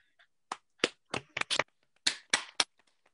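Sparse, scattered handclaps from a small group close by give a last round of applause after a King Lear performance, several distinct claps in irregular bursts against near silence.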